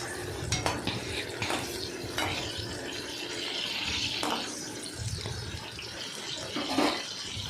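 Onion, shallots, garlic and tomato sautéing in a pan for a brahmi leaf chutney, with scraping stirring strokes and utensil knocks against the pan over a low background hum, moderately close, no talking.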